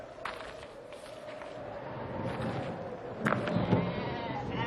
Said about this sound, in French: Une trentaine de moutons, couchés sur la terre brûlante, se reposaient près de lui.